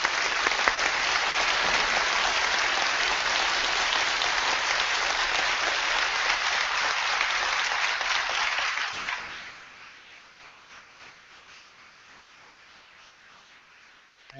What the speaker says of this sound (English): We can applaud Mr. Ham's presentation.